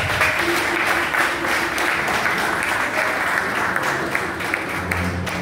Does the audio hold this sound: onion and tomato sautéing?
no